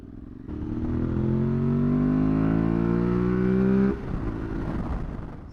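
An Aprilia Tuareg motorcycle riding on a road after a sandy off-road stretch, its engine droning steadily with a slowly rising pitch for several seconds, then the tone drops as the rider eases off, close and loud with wind rush.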